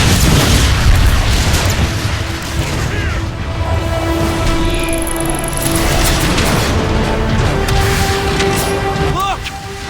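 Metroplex, a towering robot in Transformers: Fall of Cybertron, fires heavy artillery in a loud, continuous barrage of booms and mechanical clanks, with game voices talking over it.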